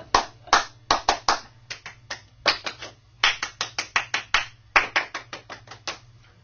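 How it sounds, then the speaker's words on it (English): A group of charter school students claps in unison, echoing a rhythmic pattern in short bursts of sharp claps separated by brief pauses, crisp and close. "So repeat the clapping pattern I'm doing"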